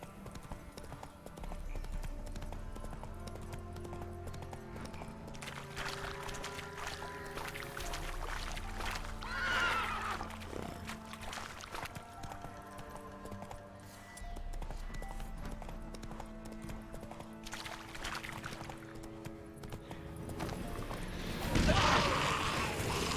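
Steady galloping hoofbeats from a horse in The Witcher 3: Wild Hunt run through the whole stretch at moderate level, laid over a continuous musical score, with a brief louder burst near the end.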